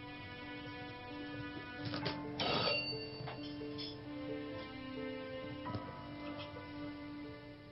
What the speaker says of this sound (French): N'as-tu pas entendu la sonnerie?